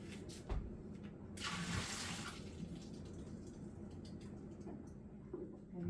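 Water rushes and splashes as a Vitamix 5200 blender container gets rinsed, a faint running stream with a brief, stronger gush partway through.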